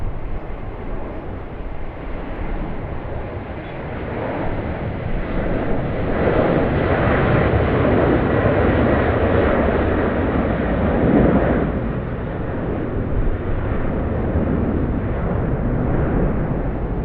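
An Airbus A330-300 airliner at Sydney Airport gives off a steady broad jet roar, swelling a little louder midway and then easing, with no voices over it.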